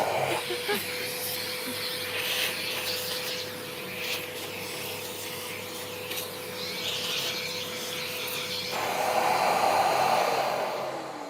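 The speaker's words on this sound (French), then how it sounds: "J'ai allumé d'abord la machine avant d'allumer l'aspi." A woodworking router runs steadily with a dust extractor vacuum, a loud continuous whine and airy roar that shifts as the bit cuts the wood, a high rasping hiss rising near the end.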